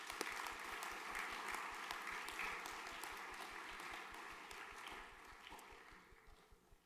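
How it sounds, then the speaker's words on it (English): Applause for graduating students at a junior graduation ceremony, a faint, steady patter of many hands clapping from a distance that gradually tapers off toward the end. "Round of applause for these men."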